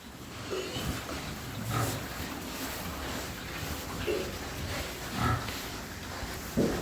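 Young piglets in a cleaned-out barn shed, with scattered short grunts and snuffles at close range over a steady, noisy background of shuffling and movement.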